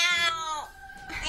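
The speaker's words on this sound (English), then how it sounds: "Shut up, you contemptible cat!" A cat gives a couple of close, strained meows with a whiny, drawn-out tone, the second one trailing off softer.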